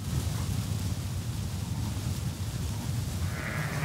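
Sheep on pasture bleat faintly amid steady wind noise buffeting the microphone, with a soft call or two under the outdoor hiss.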